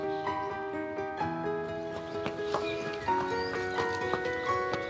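Working horses at a Buckinghamshire countryside rest home near Princes Risborough give off scattered hoof clops and a possible whinny under steady tonal background music.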